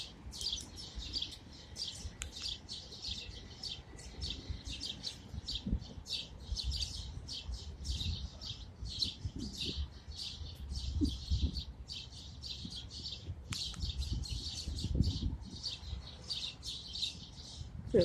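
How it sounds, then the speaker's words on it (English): Dense, continuous chirping and tweeting from a large flock of birds at an urban nesting spot, layered calls overlapping throughout with low background rumble, no voices. "there's a lot of birds here"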